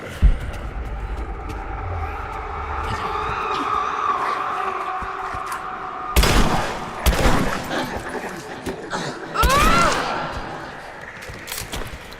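Shotgun blasts in the action game Rise of the Tomb Raider, a few loud sharp booms with a short gap between them over a low ambient game background, close and punchy.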